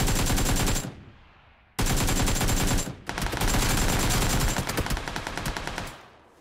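Automatic rifle fire in the PUBG Lite shooter game, loud rapid bursts of shots broken by short pauses, the last burst tapering off.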